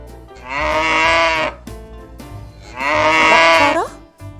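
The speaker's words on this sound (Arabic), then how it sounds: "بقرة" A cow moos twice, each a long loud drawn-out low call lasting about a second, close and alone with a short pause between.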